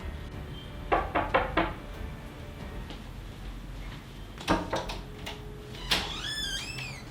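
Knuckles rap on a house door in a quick run of four knocks, then another cluster of raps a few seconds later, fairly close and sharp against a quiet indoor background.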